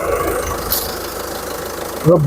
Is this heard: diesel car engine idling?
yes